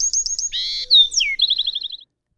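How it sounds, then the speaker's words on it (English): A Bewick's wren sings a single clear, close phrase: rapid high trilled notes, a buzzy middle section, a sharp whistled slur, then a fast descending trill ending in silence. "The Buick's wren is also a year-round bird, but they are much easier to spot in spring when they give away their position by singing."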